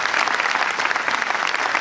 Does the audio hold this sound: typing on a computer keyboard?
no